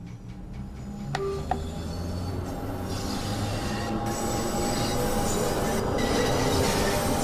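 A London Underground Bakerloo Line tube train in the video game Train Sim World 2 rumbles steadily along the track, a loud continuous roar with a brief metallic squeal and clicks early on, building slightly toward the end.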